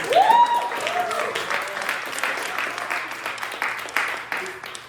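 An improv show audience breaks into a burst of applause and scattered cheers for the director, clapping steadily for several seconds with a voice calling out over the top near the start.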